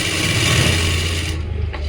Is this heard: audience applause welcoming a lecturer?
no